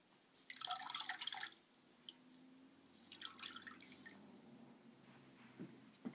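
Water runs and drips from a soaked piece squeezed out after a rinse, with a brief pattering burst, then quieter dribbles and a second splashy trickle, faint and close, with no voices.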